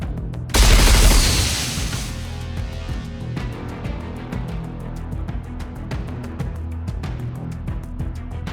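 Goddess of Victory Nikke battle with a heavy boom at the start, then a dense stream of rapid gunfire shots running steadily throughout, loud and close.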